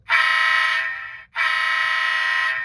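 Two long blasts of a ScaleTrains ATSF SD45 model locomotive horn, a bright electronic buzzing tone, each about a second long with a brief gap between, loud and close.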